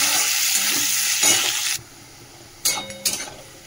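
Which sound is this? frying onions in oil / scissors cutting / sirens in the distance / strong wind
frying onions in oil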